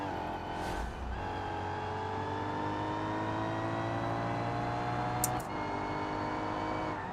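Video game race pitting a Bullitt car against a rival, with steady, loud engine drone and rising harmonic whine from several cars, a brief sharp tone burst near the end, no voices.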